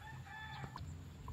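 A Red Bourbon turkey gives a brief gobbling call, close and fairly faint against a steady background.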